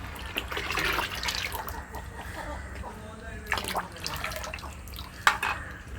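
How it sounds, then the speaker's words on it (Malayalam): Mixed maida flour batter is poured into a pan while jackfruit halwa is being cooked. Close, wet dripping and splashing sounds come with a few sharper spatters and a light clink of cookware. "നമ്മുടെ മൈദാമാവ് ഒഴിക്കുക മൈദാമാവ് കലക്കി സെറ്റാക്കി വെച്ചതന്നെ"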